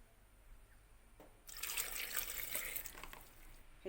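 Water pours into a potato and carrot masala in a pan. A soft, splashy pour lasts about two seconds in an otherwise quiet kitchen, with no talk.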